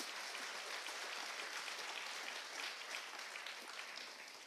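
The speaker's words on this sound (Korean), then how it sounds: "우리 박수로 하나님께 영광 드리겠습니다." A church congregation applauding during a Sunday worship service, a steady wash of many hands clapping together, soft and distant throughout.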